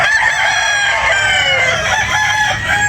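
A bulik rooster crows loudly and close by, one long, strained cock-a-doodle-doo that fills the moment with little background noise.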